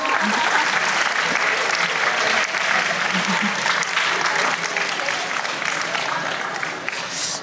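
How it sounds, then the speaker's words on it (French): Sustained audience applause, dense and steady throughout, with a faint murmur of voices mixed into the clapping. "Ah, des applaudissements."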